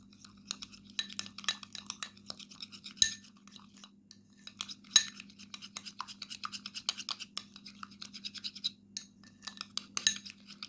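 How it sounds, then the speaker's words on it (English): Cream paste ingredients stirred and mixed in a bowl with a utensil, making soft rapid scraping and clinking taps throughout over a faint steady hum, with a few sharper knocks against the bowl. "Now mix well all the ingredients until they combine and get very well mixed."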